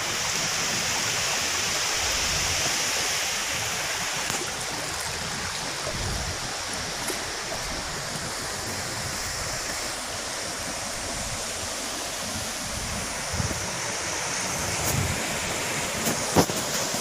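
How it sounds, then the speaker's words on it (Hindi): Water pouring down at a waterfall, a steady broadband rush that stays loud and constant from start to finish, with no voices over it. "यहाँ पे अभी पानी बह रहा है।"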